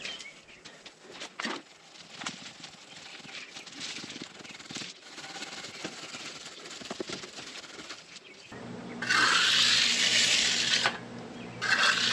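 Water from a garden hose splashes and patters steadily for several seconds, then a louder, brighter hiss of spraying water takes over near the end.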